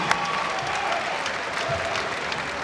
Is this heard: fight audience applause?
yes